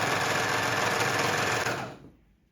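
A sewing machine runs fast, stitching a seam down striped fabric with a loud, dense mechanical whir that holds steady and then winds down to silence near the end, with no talk.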